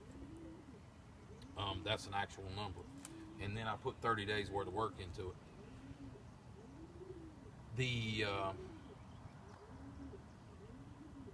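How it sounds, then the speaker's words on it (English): Soft, low pigeon cooing from inside a nearby building repeats in the background while someone talks over it, the calls rising in gentle rounded swells. "There are pigeons cooing in this building right here next to us."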